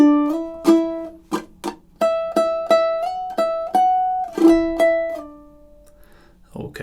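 Ukulele picking measures 25 and 26 of a song, a clear run of single plucked notes and small chords in steady rhythm, close and alone, ending on a held note.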